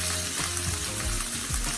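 Salmon fillets laid skin-side down in hot oil in a skillet crackle and sizzle loudly and continuously, close up, with no one speaking.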